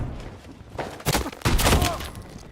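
Mortar fire in a first-person shooter game, with a couple of loud, close blasts and a rumbling barrage arriving in quick succession over a steady background of game noise.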